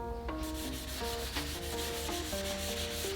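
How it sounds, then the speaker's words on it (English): A sanding block with 80-grit paper lightly scrubs an aluminum solar panel frame, making repeated rhythmic rasping strokes, close and steady, with tonal musical notes running underneath. "Using a sanding block, we lightly sanded the aluminum frame, first with 80 grit paper"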